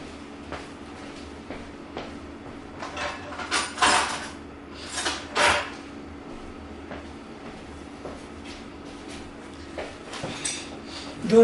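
Cutlery clatters as a drawer is rummaged for a spoon, with a few louder metallic jangles and clinks in short bursts over a quiet indoor hum, no talking.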